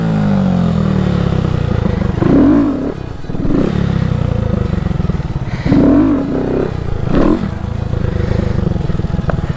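A Honda Grom motorcycle revs during wheelie practice, the engine swelling and dropping in repeated throttle bursts close by over a constant rumbling idle.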